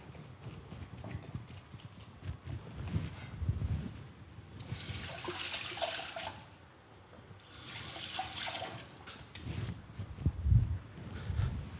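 Water added to a tagine of stuffed peppers in an Algerian kitchen, two pouring streams of a few seconds each hissing into the hot pan, with sizzling and clatter between them.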